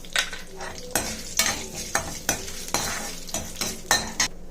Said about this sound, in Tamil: இப்போ இதில் கொஞ்சமாக காஞ்ச மிளகா கிள்ளி ஆட் பண்ணிக்கோங்க.